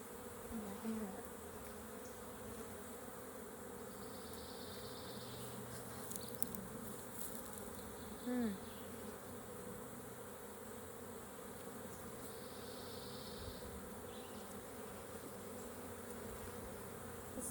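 A sustained, fairly quiet hum of many honeybees fills a backyard hive inspection, with occasional individual bees buzzing closer and brief handling sounds, no voices.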